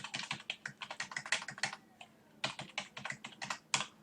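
Rapid typing on a computer keyboard, close and crisp clicks in quick bursts with a short pause midway, no talk.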